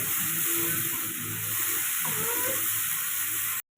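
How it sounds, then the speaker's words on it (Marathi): Tomato paste fries in hot oil with a loud, constant sizzle and hiss close up, holding steady for several seconds before stopping abruptly. "आता याला चांगलं दोन मिनटं तेलामध्ये भाजून घ्यायचं"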